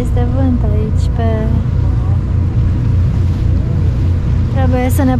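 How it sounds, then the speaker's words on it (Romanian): Steady low wind buffets the microphone over a droning tour boat engine on the Adriatic Sea off Split, Croatia, with people speaking intermittently over the rumble. "Trebuie să ne punem glugile că e vânt."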